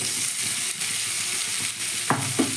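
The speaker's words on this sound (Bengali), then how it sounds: "তার সঙ্গে আমি দিয়ে দিচ্ছি ভেজে রাখা চিকেন।" Fried chicken pieces tossed and stir-fried in a pan with onion and capsicum, a steady close sizzle with a couple of scraping stirs near the end, no talking.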